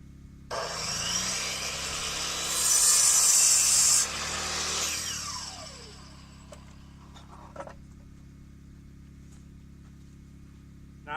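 A saw cuts wooden nailers to fit between the floor joists of a shed deck, making a loud, rasping cut for several seconds that fades into scattered light taps and handling noises.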